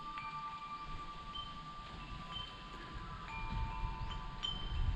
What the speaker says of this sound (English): I've got these chime bells sitting out the front